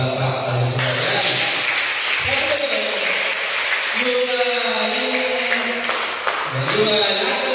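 A church congregation at a Sunday fellowship service in Cebu claps in a steady, sustained burst of applause, loud and close, with voices and music continuing beneath it.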